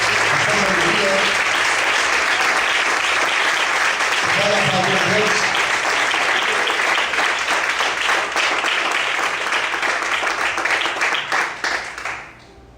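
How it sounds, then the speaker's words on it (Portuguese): Church congregation applauding loudly for about twelve seconds, steady dense clapping with some voices mixed in, then fading out at the end. "Você pode aplaudir e glorificar o Senhor esta noite."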